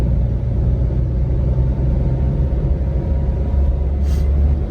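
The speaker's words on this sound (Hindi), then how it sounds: "अभी आप आवाज़ सुन रहे हैं गाड़ी की" A Maruti Alto VXL engine runs steadily at idle on fresh 0W-20 oil, a low continuous rumble with an even hum throughout and no voices.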